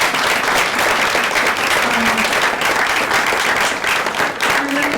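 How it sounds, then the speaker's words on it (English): A live audience at a book launch panel applauds steadily and loudly throughout, a dense wash of many hands clapping with no talk over it. "Can we just give a round of applause?"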